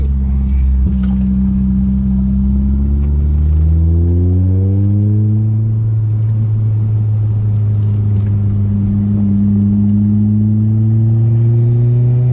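A Peugeot 406 taxi accelerating hard around a race circuit, its engine heard from inside as a loud, sustained rumbling drone climbing steadily in pitch through gear changes.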